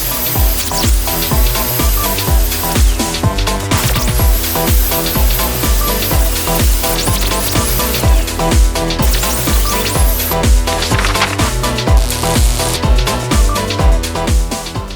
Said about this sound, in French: On ébavure les contours pour que les arêtes s'ajustent proprement